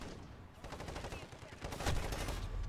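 Video game gunfire, a dense run of quick shots with a louder crack near the end, all close and fairly loud against a steady background of game noise.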